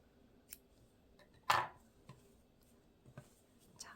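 Scissors snipping knitting yarn while finishing a turtleneck vest, one clear crisp cut standing out from a few faint clicks and handling noises in a quiet room.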